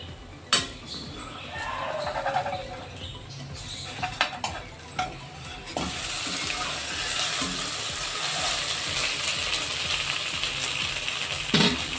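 Aloo rava breakfast cooking in oil in a pan: pan and spoon clinks and stirring give way to a steady, broad sizzle of frying that fills the second half, close and fairly loud, with no speech.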